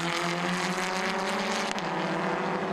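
A Renault Clio 1600cc race car at the Zolder circuit gives a steady high engine whine that holds strong and shifts pitch slightly as it passes.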